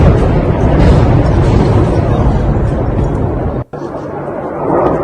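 A loud, sustained roaring blast from a wartime attack in Ukraine fills the air, cutting out abruptly for a moment before a rumbling continues.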